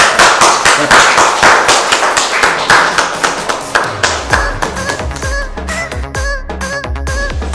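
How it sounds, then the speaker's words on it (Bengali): A roomful of students clapping together for a classmate, loud rapid hand claps that grow into a slower, more spaced rhythm, with no voices over them. "সবাই হাততালি দাও।"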